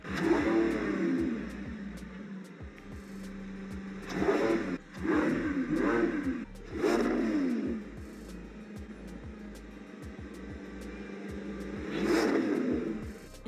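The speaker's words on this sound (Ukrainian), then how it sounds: "Зараз я переведу його в спортивний режим, щоб ми змогли трохи погратися з обертами." A Lamborghini Revuelto in sport mode revs hard in repeated bursts, its engine roaring up and dropping back between blips over a steady idle, close and loud with no talking.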